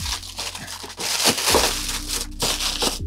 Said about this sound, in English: Got some packaging. Uh, oh, it looks like honeycomb.